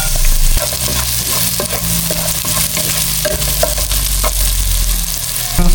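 Onion sizzling and being stirred in a hot pan with garlic for lugaw, a loud, steady frying hiss broken by repeated scraping stir strokes, close up with no talking.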